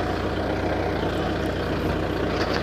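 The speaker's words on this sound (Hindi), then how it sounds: "हल्की जी रेस ते ट्रैक्टर जा रहा" A Belarus 510 tractor's diesel engine runs steadily at light throttle while the tractor moves, giving a continuous low, rumbling drone close to the microphone with no talk over it.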